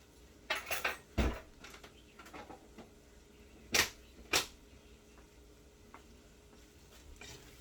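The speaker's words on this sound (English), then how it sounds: "I'm going to stir this around so it kind of makes a roux." Flour stirred into browned meat, onion and garlic for a roux in a soup pot, with a few sharp scrapes of a utensil against the pan over a quiet, low sizzle.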